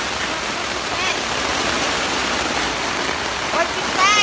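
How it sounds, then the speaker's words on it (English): Light drizzle falling outside a camping tent, a steady soft hiss of rain throughout, with faint chirps near the end. "Not raining, but just drizzling."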